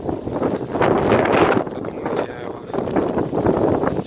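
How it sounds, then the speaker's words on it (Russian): Heavy wind buffets the microphone in steady rumbling gusts, a loud roaring blast that fills the whole clip. "Ветер, блин, не знаю, как со связью будет."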